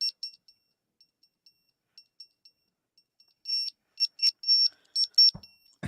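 A smoke alarm chirps in short, shrill beeps, faint and sparse at first, then louder bursts in quick succession, with a brief thump near the end.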